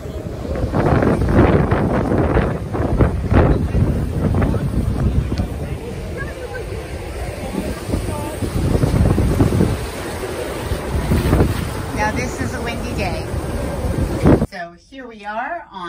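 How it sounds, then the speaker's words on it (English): Strong wind buffets the microphone in gusty, rumbling bursts on the deck of the cruise ship Crown Princess, with people talking faintly underneath before it cuts off abruptly. "enjoying the sunny but windy day"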